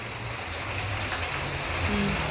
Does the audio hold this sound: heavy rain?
yes